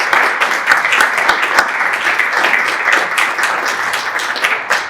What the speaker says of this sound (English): we need to give Mary a round of applause for all the work she's done